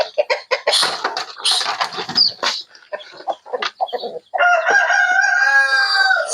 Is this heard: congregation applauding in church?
no